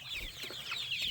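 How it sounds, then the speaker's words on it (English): A big rooster clucks among a flock that includes solid black birds and leghorns, a busy run of close, fairly loud clucks with no talking. "There's a big rooster here."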